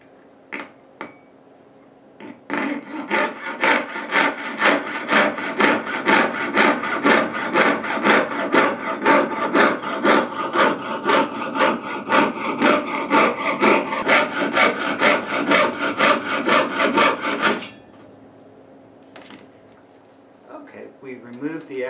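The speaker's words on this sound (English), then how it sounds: "When you saw it, be sure to support it on top of your bench pin and saw just slightly outside of the bezel." A jeweler's saw cuts around a silver bezel cup resting on a bench pin, a fast, even series of close rasping strokes lasting about fifteen seconds before stopping, followed by faint handling noises.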